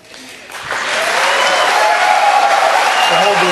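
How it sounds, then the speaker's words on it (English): Applause and crowd noise from the audience at a televised GOP presidential candidates' debate swell after a brief quieter start and hold steady and loud throughout, with some voices mixed into the crowd. "Hold the applause."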